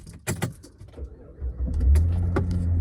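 A car starts up after a long repair: a few clicks and jangles, then the engine turns over and settles into a steady low rumble that stays up close to the end.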